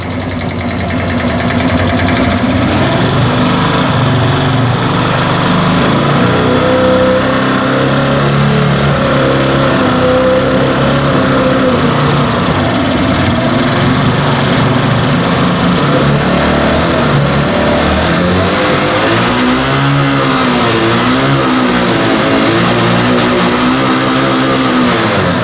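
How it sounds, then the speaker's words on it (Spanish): An Italika Z 150 motorcycle engine with a carburetor problem revs hard and continuously past 6000 rpm toward 9000, a loud, sustained buzzing drone that rises and wavers near the end, with no talking. "Si ven, ahora sí ya pasa de lo que viene siendo 6000 revoluciones, casi hasta 9000"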